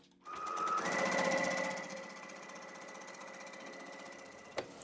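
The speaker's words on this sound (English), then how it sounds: "I want to do a second line of top stitching" Sewing machine running a second line of topstitching with a gripper foot, a short close whirring burst of stitches that slows and fades, followed by a faint click.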